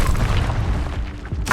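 The Levioso spell in Hogwarts Legacy lands as a deep booming whoosh that fades over about a second, followed by a short bright burst at the end.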